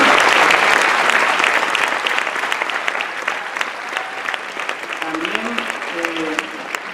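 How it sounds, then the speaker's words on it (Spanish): Audience at an Asturian handball gala breaks into strong applause, loud and dense at first and then thinning slightly, with a few voices surfacing near the end as the clapping continues. "un fuerte aplauso, un fuerte abrazo a sus familiares de Miguel y de Marco"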